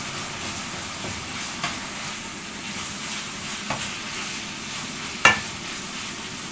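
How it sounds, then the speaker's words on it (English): Vegetables for a cottage pie are stirred in a pot with a soft, continuous sizzle, broken by a few light clinks of the spoon against the pot. "I'll stir that for a bit longer"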